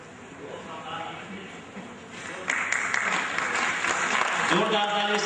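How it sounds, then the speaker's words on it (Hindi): Applause from a full hall audience at a Tagore Jayanti Gitanjali Mahotsav cultural function, starting as a murmur and swelling suddenly into dense, steady clapping that continues to the end. "आदरणीय शरद यादव जी के समर्थन में जोरदार ताली"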